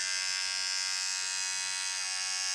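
A Kemei 1506 electric shaver runs with a continuous even buzzing whine, close up and steady throughout, with no voices.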